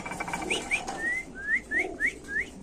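Indonesian pigeons call in a quick series of about seven short, rising whistled notes, close and fairly clear over a soft background murmur.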